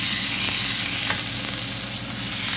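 Burger patties pressed flat with a trowel onto a hot grill sizzle steadily and loudly, a continuous broadband hiss with faint scraping touches and no voices.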